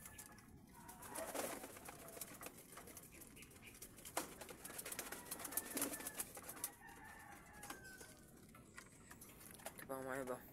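Pigeons cooing in a loft with chickens kept nearby, soft repeated coos layered over a busy background of bird calls, with a rooster-like crow toward the end.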